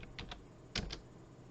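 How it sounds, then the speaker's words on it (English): A few quiet keystrokes tapped on a computer keyboard while entering a value in game-development software, short clicks in two small clusters against a soft background hiss. "really, we can just type in"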